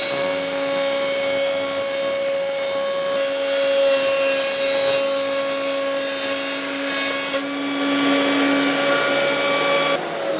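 A workshop vacuum dust extractor runs steadily at close range with a loud, constant whine and hum. It drops to a lower, quieter drone at about seven and a half seconds, as if the airflow changed.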